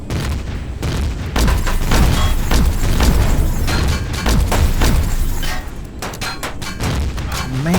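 Heavy gunfire and booming explosions from the Empyrion video game fill the scene: dense, loud volleys of shots and blasts arrive in rapid clusters, with a short lull before another burst of firing near the end.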